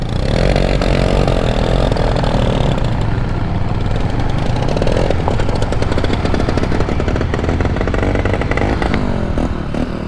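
A motorcycle engine revs hard and runs rough with a rattling, uneven roar. It sits close and loud, holds for the full stretch and rises and falls slightly, with no talking.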